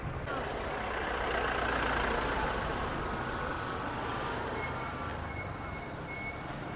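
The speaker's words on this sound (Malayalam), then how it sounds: "വണ്ടി കുറേ വരുന്നുണ്ട്" Vehicles passing on a forest road in Tamil Nadu give a loud, continuous engine and tyre rumble that swells as a heavy vehicle goes by, then holds steady.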